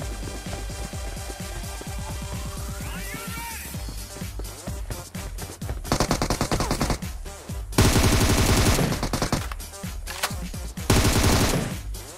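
Rapid automatic rifle fire in PUBG Mobile, including a 7.62 weapon, crackles in loud sustained bursts with short gaps, heaviest toward the end, with no talking over it.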